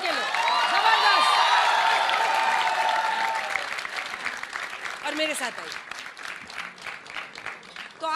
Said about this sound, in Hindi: जल्दी से तालियां बजाइए भाई इनके लिए